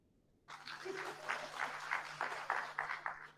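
A small group of students claps at a new-student orientation, starting abruptly and continuing as uneven, moderately quiet clapping with a low steady hum underneath.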